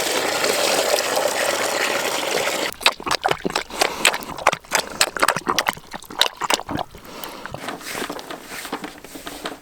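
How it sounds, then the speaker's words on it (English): Water gushes as a small bucket is poured out for pigs, a steady rushing pour that ends after about three seconds, then gives way to uneven splashes, sloshing and trickles. "once or twice a day I have to pour the pigs one little bucket of water"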